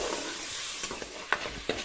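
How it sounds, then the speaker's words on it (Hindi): Masala with crushed chilli and dry coriander roasting in a pan, a soft continuous sizzle with a few brief scrapes of the spoon standing out, fairly quiet and close. "और मसाले की अच्छी तरह भुनाई करेंगे"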